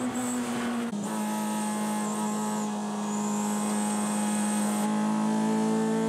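Toyota AE86 drift car, driver-built engine and 6-degree front camber, revving hard on a time attack run, a sustained loud engine tone that drops briefly and climbs again, with rising pitch near the end.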